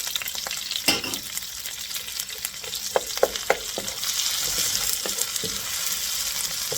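Onion frying in hot oil for pancit bihon makes a loud continuous sizzle, with several sharp scrapes and taps of a utensil against the pan as it is stirred.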